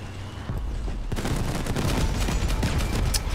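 Rapid bursts of gunfire in a heavy tank battle in a video game, with dense, continuous rattling shots rising after a brief lull and carrying on loudly to the end.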